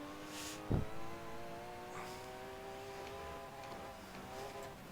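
A race car's flat-six engine pulls hard under acceleration, a steady rising harmonic whine with a brief loud burst near the start, close and continuous with no talk.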